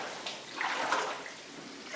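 Footsteps wading through knee-deep water in an underground passage, heard as soft sloshing and splashing surges that swell and fade across a couple of slow strides, fairly close but not loud.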